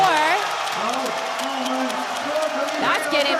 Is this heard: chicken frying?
no